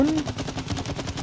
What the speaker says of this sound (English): And then we shoot.